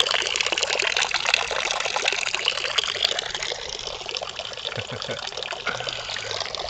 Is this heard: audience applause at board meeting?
no